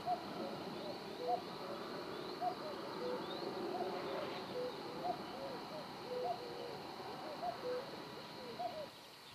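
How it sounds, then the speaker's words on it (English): Cuckoos calling across open Dartmoor moorland below Saddle Tor on a spring morning, a steady series of repeated two-note calls, moderately distant, with other faint birdsong under a soft outdoor hush. "Looking down from the top of Saddletor, all I can hear are cuckoos"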